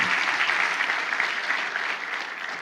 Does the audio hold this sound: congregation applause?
yes